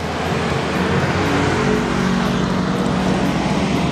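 An Andy Speed aftermarket exhaust on a Suzuki Shogun R110 motorcycle gives a loud, steady, rough drone close up, running without a break and with no talking over it.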